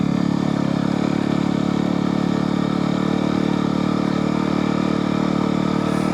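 Yamaha WR250R motorcycle engine running in the Pine Barrens, a steady, loud, even drone that holds throughout without a break.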